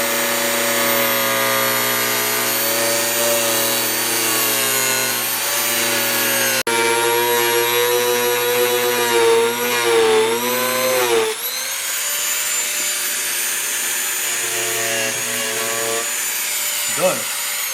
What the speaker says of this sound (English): So I'm just going to go cut this out here with the Dremel right now.